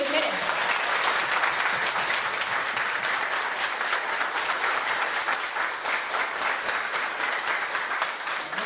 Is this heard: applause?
yes